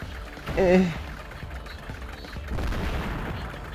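Artillery fire in Advance Wars: Days of Ruin: a single muffled boom with a short rumbling tail, followed by a softer low burst, while a player talks over it.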